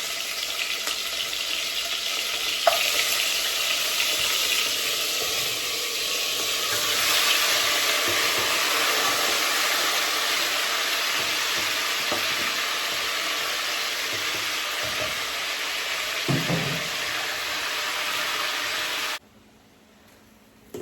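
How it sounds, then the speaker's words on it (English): Food sizzles and crackles steadily in hot oil in a pan, a loud continuous frying hiss with a few sharp pops, stopping abruptly near the end. "I love when it kind of fries."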